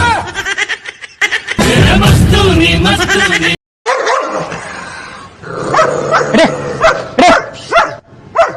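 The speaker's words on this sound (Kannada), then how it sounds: "ನಿಮ್ಮ ಓಣೆ ನಾಯಿ ನಾನು ನೋಡಿದ್ರೆ ಬಗೋತಲ್ಲ" A dog barks repeatedly in short bursts, interspersed with people talking and laughing close by.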